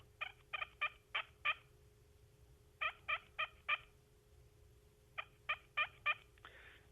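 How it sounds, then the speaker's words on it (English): A push-button turkey call makes soft hen tree yelps, given as three clusters of four or five quick, close yelps with short pauses between them. "I'll just do a soft one on this little push button. This is my favorite one for the tree yelp."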